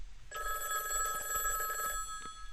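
A telephone in the Higurashi video game rings once with a bright electronic trill, a sustained warbling tone lasting under two seconds, then falls silent; fairly quiet and alone.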